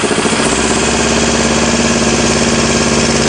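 Engine idling under late intake valve closing control alone, a steady loud rumble with rapid even firing pulses throughout and no voices.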